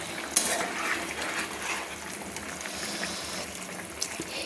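Fried prawns stirred into a potato gravy in a pan, giving soft wet sloshing and scraping with a sharp utensil clink near the start and another near the end, all fairly quiet and without talk.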